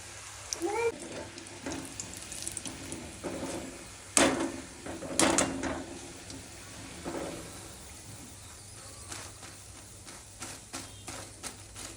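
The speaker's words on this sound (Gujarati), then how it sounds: "અને હવે આપણે તેને તળી લઈએ." Corn pakoda fritters fry in hot oil with a faint, steady bubbling sizzle, broken by a few sharper clinks and pops from the pan.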